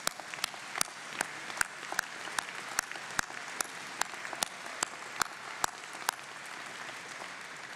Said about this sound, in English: you should have another round of applause for that